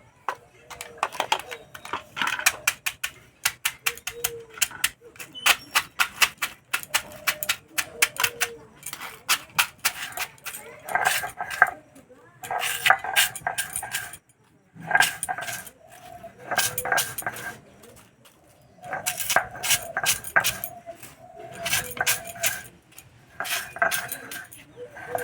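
Toast biscuits are crushed into crumbs in a home kitchen, giving dense bursts of crisp crunching and clattering in irregular clusters, close and fairly loud, with brief pauses between rounds.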